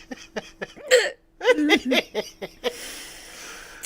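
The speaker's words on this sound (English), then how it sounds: "You got a few hiccups?" A few sharp hiccups pop up close to the microphone, mixed with short bursts of laughter or chuckling, followed by a brief hiss of background noise.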